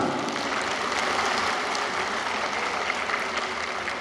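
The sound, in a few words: applause, clapping hands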